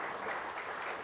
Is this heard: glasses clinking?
no